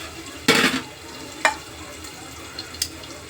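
Potatoes cook in oil over a low gas flame for sabudana khichdi, with a soft sizzle broken by a few short stirring scrapes and small clinks, and no talking.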